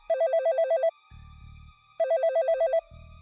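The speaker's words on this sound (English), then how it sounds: "I was jolted awake around midnight by the sound of my landline ringing." A landline telephone rings in two loud electronic bursts, each a rapid warbling trill followed by a short lower buzz, with silence between the rings.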